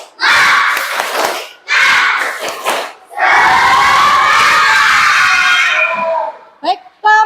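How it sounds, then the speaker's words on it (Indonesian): A class of children shouts a spirit chant in unison, loud voices in bursts with short pauses, then a long sustained group cry, with brief clapping-like hits near the end. "mari coba tepuk semangat"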